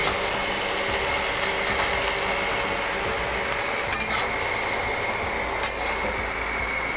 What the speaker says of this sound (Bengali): টমেটোটা অল্প ভাজা ভাজা করে নিয়ে আমি এবার দিয়ে দেবো ঝিঙে